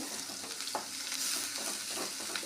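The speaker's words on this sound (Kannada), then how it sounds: "ಹೆಚ್ಚಿಟ್ಟಂಥ ಉಳ್ಳಾಗಡ್ಡೆಯನ್ನು ಹಾಕಿರಿ ಒಗ್ಗರಣೆಯಲ್ಲಿ ಚೆನ್ನಾಗಿ ಉಳ್ಳಾಗಡ್ಡಿ ಫ್ರೈ ಮಾಡಿಕೊಳ್ಳ್ರಿ" Chopped onions fry in hot tempering oil, a continuous close sizzle broken by the scrape and clatter of stirring.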